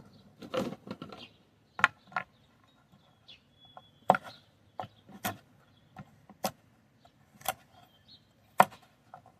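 Coconut is chopped into pieces for a blender, with sharp knife strikes landing singly at irregular intervals against a quiet background, some hits louder than others.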